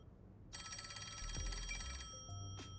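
A telephone rings in the video game Master Detective Archives: RainCode, a bright electronic trill that holds for about a second and a half and then gives two shorter chirps, all quiet under low ambient game noise.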